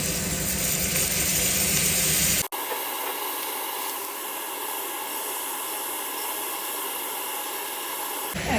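Prawns frying in butter in a pan, a loud hiss at first that drops to a steadier, softer sizzle after a sharp break, close with no talk.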